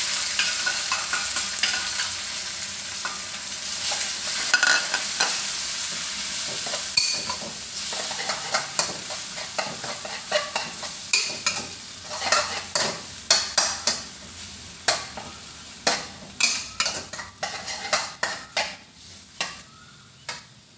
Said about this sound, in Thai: เฮาก็สิคั่วจนมันแห้งพุ่นล่ะค่ะเฮาก็สิเอิ้นว่าคั่วไข่